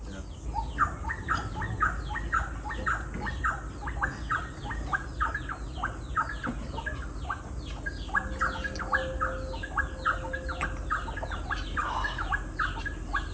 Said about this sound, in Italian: Questi sono tutti uccellini che si uniscono a tutte le anatre, i pavoni, le oche, i galli che ci sono qui in questa finca.